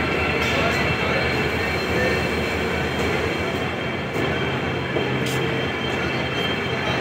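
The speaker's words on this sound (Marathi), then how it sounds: "आपली गाडी आलेली आहे मिरज जंक्शनमध्ये, वंदे भारत।" Hubballi–Pune Vande Bharat Express 20669 pulling into Miraj Junction, a loud, steady rail rumble with a continuous roar and faint rattling that fills the whole stretch.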